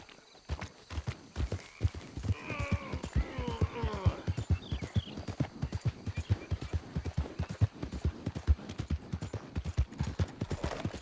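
Horse hoofbeats in the video game Red Dead Redemption 2, a steady, even clip-clop rhythm that carries on for about ten seconds, with a brief voice or whinny near the start.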